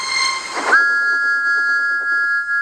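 A steam train whistle sounds clear and sustained after a brief hiss of steam, holding a steady shrill tone to the end.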